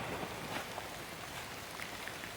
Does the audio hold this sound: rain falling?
yes